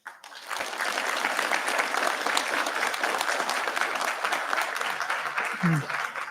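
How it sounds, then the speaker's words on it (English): A graduation ceremony crowd at a secondary school gives a sustained round of applause, dense even clapping filling the hall from start to finish, with a short voice near the end. "give the people who are here for you a round of applause"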